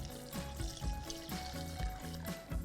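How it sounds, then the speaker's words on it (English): Warm milk pours steadily into a pastry cream mixture for a fruit tart, a continuous close liquid stream with soft gurgling throughout, no talking. "I'll add in the rest of the milk"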